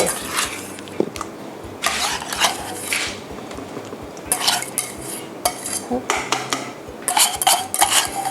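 Room-temperature melted butter stirred by hand with a whisk in a plain bowl for double chocolate cupcake batter, making intermittent metallic scraping and clinking bursts with short pauses between them.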